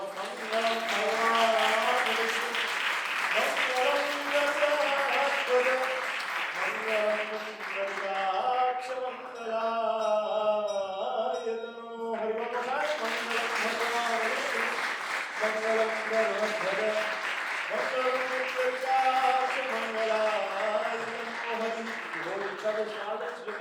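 Sustained applause and cheering from wedding guests as the bride garlands at a Hindu wedding ceremony, steady throughout with music and voices mixed in beneath the crowd.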